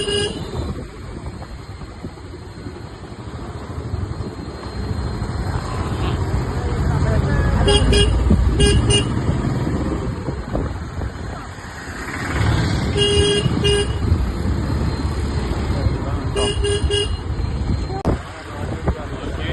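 Vehicles crawl in a long traffic jam on the hill road to Nelliyampathy, with a steady engine and road rumble, several car horns tooting, and a person talking over the noise.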